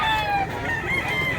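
A rooster, an 11-month-old stag gamecock, crows in several wavering drawn-out notes at close range, with a faint murmur of a busy poultry market around it.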